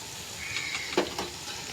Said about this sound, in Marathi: टाकतोय आपण याच्यात अर्धी वाटी तूप.